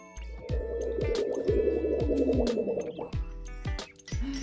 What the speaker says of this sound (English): Who doesn't love a good water bubble?